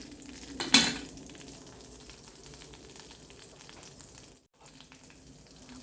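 Oil heats in a kadai with a soft, continuous sizzle close by, opening with one sharp metallic clank and briefly cutting out near the end.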